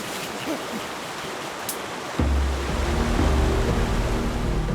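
Water pours over a waterfall into a rushing stream in the chimpanzees' forest habitat, a broad steady roar that swells abruptly louder and closer halfway through.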